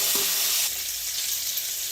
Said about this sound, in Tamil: கடுகு வெடித்தோடனே வெங்காயம் போட்டுக்கலாம்